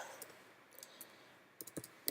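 Sparse, quiet clicks of someone typing one-handed on a computer keyboard, irregular single taps with longer gaps and a small quick cluster near the end.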